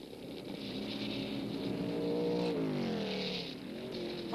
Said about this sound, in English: Parnelli Jones through turn 9, down to the checkered flag.